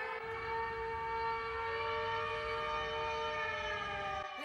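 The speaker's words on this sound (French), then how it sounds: "Les sirènes! Une alerte!" A loud, steady wailing alarm siren in an animated series drones on without a break, holding layered tones that slowly rise and fall, with no voices over it.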